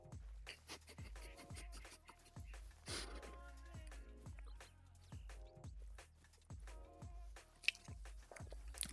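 Chewing and biting on week-old cake that sat under aluminum foil, close to the mouth, with a steady run of wet, crunchy bites repeating about once a second over several seconds, no talking.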